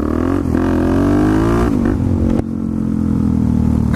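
A pit bike engine is revved hard and continuously while someone rides wheelies, a loud, close, buzzing whine that rises and dips in pitch through the throttle changes.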